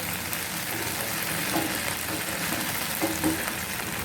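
Okra and spring onions sizzle steadily in a pan, with a few soft scrapes as they are stirred and mixed, the frying hiss continuous and close throughout.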